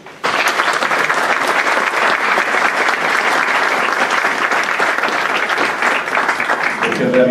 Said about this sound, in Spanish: pido a todos ustedes un aplauso